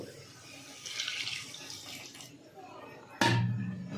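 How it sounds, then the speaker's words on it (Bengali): Water poured into a pot of paneer biryani masala, a brief trickling splash beginning near the end, after a stretch of soft kitchen sounds and a voice talking. "এবার আমি একটু জল দিয়ে দেব"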